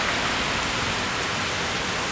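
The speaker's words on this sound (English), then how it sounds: "I'm sorry for the noise of the traffic and stuff." Drizzling rain and Singapore street traffic form a constant close hiss, an unbroken broadband wash with no distinct vehicles standing out.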